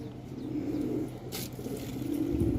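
Pigeons cooing close by in low, soft, continuous murmuring phrases, with a brief rustle of wings midway; no one speaks.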